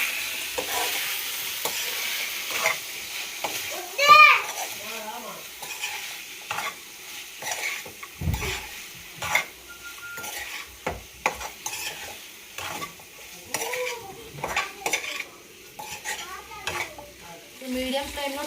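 Spicy chicken fry being stirred in a pan, a utensil scraping and clinking against the metal in irregular strokes over a soft sizzle, close and moderately loud, with no talking.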